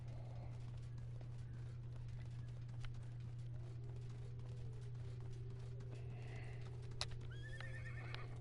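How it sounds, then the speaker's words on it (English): Horse mount in the video game Realm Royale, with steady clip-clop hoofbeats running throughout over a constant low hum, then a clear neigh near the end, all without talk. "Oh yeah, I forgot about the mount."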